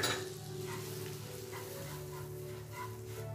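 Besan flour roasting in melted butter in a pan over a low flame, a soft, steady sizzle with faint scraping stirs and light utensil clinks, quiet and close.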